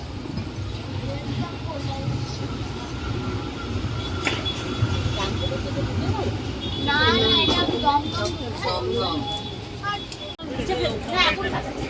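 A train pulls into Bidhannagar Road station on Kali Puja night, rumbling steadily with a brief squeal and clank near the end, while people talk over it and festival crackers pop in the distance.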